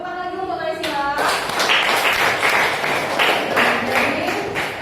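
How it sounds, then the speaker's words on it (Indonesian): Classroom audience clapping for a student named Naisila in a teacher-training lesson, a dense burst of many hands starting after a brief tonal sound at the outset and continuing steadily, fairly loud and close. "Tepuk tangan lagi untuk Naisila"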